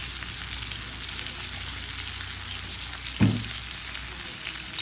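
Spices and ginger fry for a chicken and vegetable tagine, giving a faint, steady background sizzle with one brief knock partway through and no voices.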